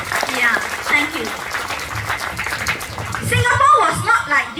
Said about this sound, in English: I think I have to give him a round of applause.